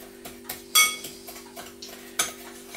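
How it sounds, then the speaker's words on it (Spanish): A utensil stirring onion soup mix ingredients in a bowl for French-style chicken wings, soft irregular clinks and scrapes with a few sharper taps, close and alone over a faint steady hum. "Revolvemos muy bien todos los ingredientes. Y vamos rompiendo algo los grumos."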